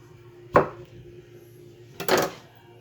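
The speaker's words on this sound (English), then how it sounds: "chop them. Quarters will do." Two sharp knife chops through onions being cut into quarters on a board, one near the start and a slightly longer pair of knocks about a second and a half later, close and distinct with quiet between.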